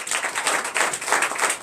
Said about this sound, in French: Donnez l'acclamation pour ça.